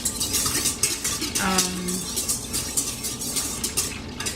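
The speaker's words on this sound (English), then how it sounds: "you sprinkle that over and then sort of stir it around a little bit to dissolve the yeast" A utensil stirs yeast to dissolve it for rosemary bread, scraping and clinking against a bowl in quick repeated strokes, close up and steady without talk.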